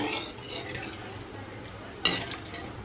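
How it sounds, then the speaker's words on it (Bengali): A spoon stirs an eggplant and tangra fish curry in a pan just after water is added, giving a close wet scraping and swishing with one sharp metallic clink near the end. "জল দিয়ে ভালোভাবে নাড়িয়ে নিচ্ছি"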